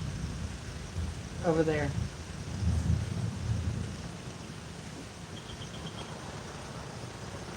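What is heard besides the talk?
distant thunder during mountain storm in Puerto Rico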